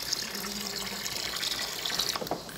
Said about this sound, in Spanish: Vamos a echarle más agua para que se quede.